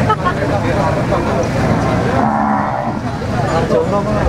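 A Peranakan Ongole bull moos at a cattle contest in Rembang, its low call rising over dense crowd chatter, nearby talking and distant traffic.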